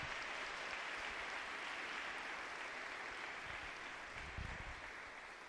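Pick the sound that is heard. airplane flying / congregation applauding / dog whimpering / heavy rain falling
congregation applauding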